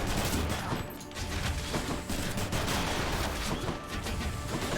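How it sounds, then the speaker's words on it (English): Rapid triple explosions from the Hades video game fire off in a dense, continuous barrage of loud bursts and crashes, layered with game effects and no speech. "just doing massive damage with triple explosions"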